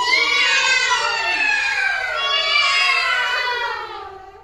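Second-grade schoolchildren in a classroom imitate a cat's meow together, a loud, sustained chorus of high wavering voices that tapers off at the end.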